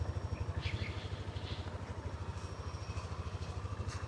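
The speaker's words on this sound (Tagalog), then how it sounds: "Napakatahimik ang makina." A Yamaha Lexi 155 scooter engine idles after an oil change, a low, even, rapid putter that stays steady and quiet throughout, close by with no talk.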